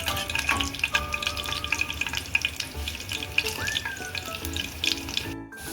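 Garlic frying in oil in a pan while cooking a green vegetable dish gives a loud continuous sizzle with crackly spits and occasional stirring scrapes, close up throughout.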